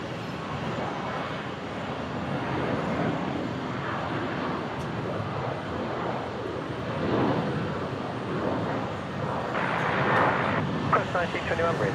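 Virgin airliner rolling for takeoff at Brisbane Airport on a flight to Perth, a broad rising engine roar building steadily and growing louder toward the end, with faint talk underneath.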